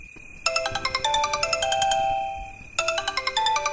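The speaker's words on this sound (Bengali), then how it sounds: "ফের কর্কশ শব্দে ফোনটা বেজে ওঠে।" A mobile phone ringtone rings loudly and harshly in a repeating electronic melody, breaking off briefly and then starting again, with no voices over it.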